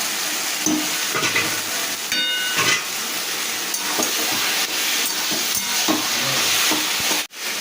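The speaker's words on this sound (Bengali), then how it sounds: "এবার দিয়ে দিচ্ছি ভিজিয়ে রাখা ছোলা আর দিয়ে দেবো কিছুটা চেরা কাঁচা লঙ্কা" Soaked chickpeas and slit green chillies sizzling in a hot pan, a loud continuous frying hiss with occasional stirring scrapes, close up and steady before a brief knock near the end.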